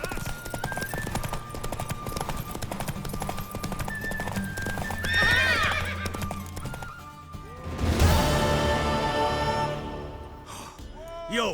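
A horse in The Witcher 3 gallops with rapid, loud hoofbeats, then lets out a sharp neigh, followed by a second whinny as the hooves continue, over game music.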